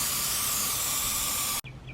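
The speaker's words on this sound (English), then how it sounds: "we gave it a spray" Toilet bowl cleaner is sprayed onto an oil stain on a driveway, giving one steady, close hiss for about a second and a half before cutting off abruptly, followed by a faint quieter tail.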